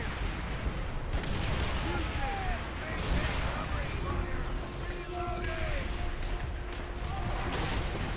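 In a video game played on veteran mode, dense gunfire aimed at tanks rattles almost without pause, loud and close, with a few faint tonal whines drifting through the continuous blasts.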